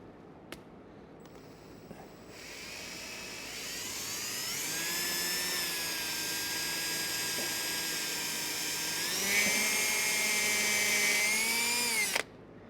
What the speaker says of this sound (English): All right, so I'm gonna drill some pilot holes here.